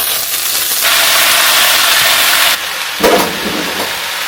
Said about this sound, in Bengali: এই যে ধুয়ে রাখা শাকগুলো দিয়ে দিচ্ছি